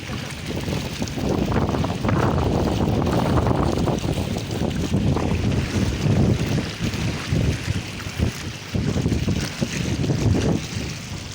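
Strong wind roars steadily across the microphone out at sea on a raft, with a low rumble of water and boat noise underneath, loud and continuous throughout.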